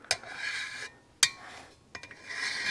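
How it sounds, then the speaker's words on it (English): Light flat draw filing on a 1978 Suzuki RM250 cylinder: three short rasping strokes of a file drawn across metal, close and clear with quiet pauses between, no talk. "I just did some flat draw filing here, just very lightly"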